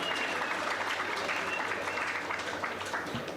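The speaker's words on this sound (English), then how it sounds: "Please give her a round of applause." A conference audience applauds steadily throughout, a dense wash of many hands clapping at moderate loudness with faint voices mixed in.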